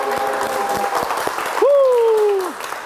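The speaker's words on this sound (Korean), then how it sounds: "박수!" A burst of clapping from a small group, quick and dense at first, then fading as a voice calls out over it.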